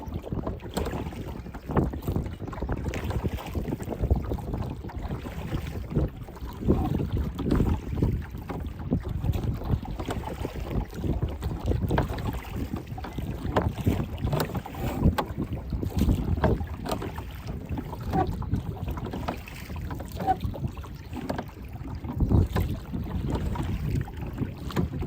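Wind buffets a small rowing boat off Gibraltar, a steady rough rush with gusting surges and water slapping close by, no voices, continuous throughout.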